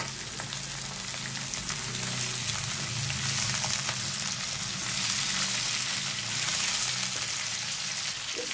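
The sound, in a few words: beef meat frying with golden onions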